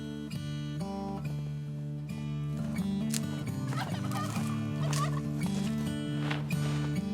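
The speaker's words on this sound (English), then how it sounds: "Karl finally hears back from a gobbler." A wild turkey gobbler gobbles in New Mexico, a rapid, rattling gobble that repeats in bursts across the clip, fairly clear and carrying, with no talking.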